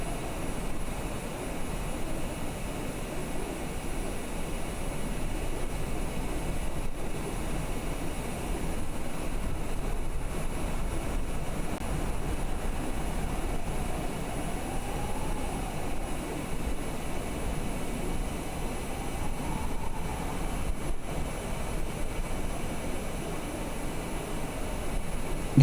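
A private jet's engines drone steadily during cruise flight in Microsoft Flight Simulator 2020, a constant even roar with a faint rising whine partway through. No one speaks.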